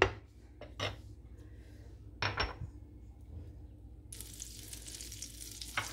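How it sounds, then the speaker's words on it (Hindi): About a tablespoon of butter melting in a frying pan, a faint soft sizzle under a couple of sharp utensil clinks, then a brighter, louder hiss for the last couple of seconds, with no voices. "पैन में 1 टेबल स्पून के जितना बटर डाल देंगे।"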